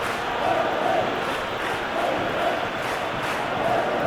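A big stadium crowd in a simulated Athletic Club versus Real Madrid La Liga football match grumbles and murmurs in a steady, dense roar, rising and falling slightly with no single voice standing out.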